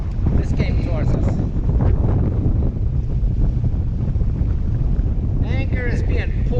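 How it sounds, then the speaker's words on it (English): Strong wind buffets an anchored boat in big waves, a loud continuous roar of gusts and water with rushing surges, and a voice briefly breaks in near the end. "And the wind is just blowing away. Big waves."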